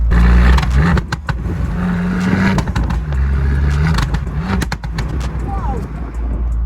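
An Abarth car engine idles and revs nearby with sharp, loud pops and bangs from the exhaust over a busy, noisy background.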